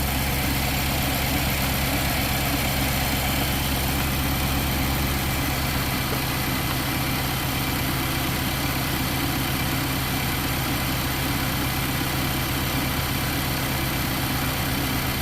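A Nissan NV 3500 van engine idles steadily with one cylinder running rough, a continuous low, vibrating rumble heard up close with no talking.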